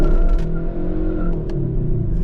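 A 2023 Kia K5 GT with the GT1 package and open differential launching from a stop in manual paddle-shift mode, loud engine roar with wheel spin and brief tire noise, close and continuous.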